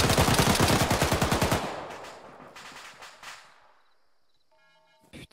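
Automatic gunfire from ArmA 3 opens with a loud, rapid burst of evenly spaced shots lasting over a second, then breaks into scattered, more distant shots that fade toward quiet before a final pair of sharp cracks.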